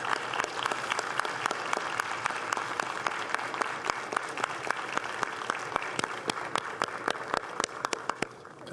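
Audience at a youth senator program event applauds, sustained clapping from a crowd with sharp individual claps standing out throughout, moderately distant.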